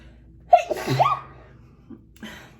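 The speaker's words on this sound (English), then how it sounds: "I feel a sneeze coming." A single short, high-pitched sneeze with a quick intake of breath before it, close and fairly quiet, followed by a soft breath.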